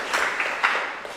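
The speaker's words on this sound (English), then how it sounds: "can we have a small round of applause for Ian and Yannis?" A small round of applause from an audience at an archaeology talk, steady broadband clapping with a few louder individual claps, short and moderately loud with no talking.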